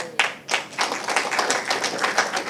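An audience at a people's tribunal claps steadily, with a few sharp early claps building into sustained applause from a crowd, heard at a moderate distance.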